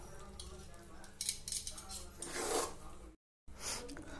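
Kozhukattai dough being stirred in a pot, with scraping, rubbing strokes of a utensil against metal, close and uneven, broken by a brief silent gap near the end.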